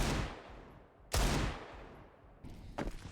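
Bursts of rapid automatic gunfire during a Counter-Strike match, loud and close, with a sharp volley near the middle and more scattered shots toward the end, no speech.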